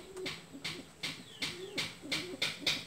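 A pigeon with bubul foot disease coos softly, a run of about eight short, evenly spaced throaty pulses close by.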